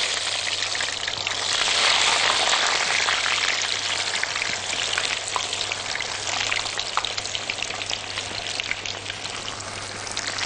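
Chicken kibbeh fry in hot oil over medium heat, a dense, continuous crackling sizzle that stays loud and close from start to finish, with no speech over it.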